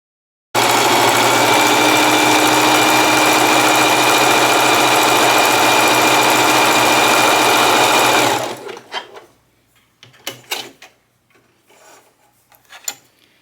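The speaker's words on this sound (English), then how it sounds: "let me just do the basic stretch stitch again and see with one layer if it looks good" A sewing machine runs a stretch stitch along a single layer of T-shirt fabric with a loud, constant, close whir for about eight seconds. It then stops, followed by a few scattered handling clicks and rustles.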